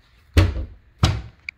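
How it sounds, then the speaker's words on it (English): A refrigerator door is pushed shut twice in a move-out apartment whose fridge door is faulty and won't stay closed, two loud close thumps about half a second apart, then a small click. "The fridge door doesn't close"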